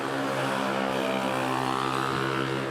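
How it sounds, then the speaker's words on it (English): A De Havilland propeller plane takes off at Manila Airport, a steady loud drone with strong harmonic propeller hum that holds evenly throughout with no voices. "De Havilland takeoff to Busuanga, Coron."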